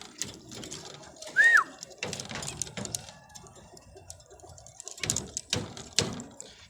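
Pigeons coo softly at a coop during feeding, with a few scattered calls among rustling and knocks. A person speaks quietly in the background.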